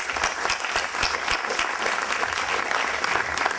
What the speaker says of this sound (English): let's give a round of applause for Stephen